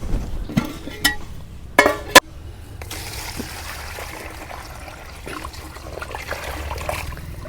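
Water poured from a container over live taki fish to keep them alive, in a village kitchen setting; a steady trickling, splashing flow runs for several seconds after a few short knocks and clatters, with no talking.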